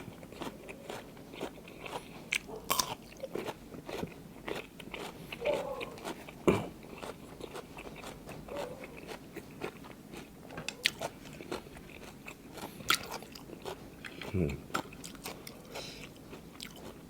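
Crispy skin from Thai-style braised pork leg is bitten and chewed up close, giving repeated crackling crunches and wet chewing in an irregular rhythm at low volume, with no talk.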